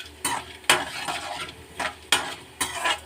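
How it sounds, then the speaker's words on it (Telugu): Ingredients for tomato chutney are stirred and fried in a pan, with a close, steady sizzle broken by several sharp scraping stirs at uneven intervals. "ఈ మొత్తం కొంచెం ఎర్రగా వేగనిద్దామండి."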